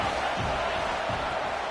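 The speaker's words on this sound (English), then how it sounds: "This crowd knows this defense needs them right now." Football stadium crowd roaring at a steady, distant-sounding wash of cheering and noise during a game, with no distinct voices standing out.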